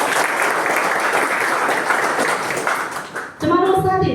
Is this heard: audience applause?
yes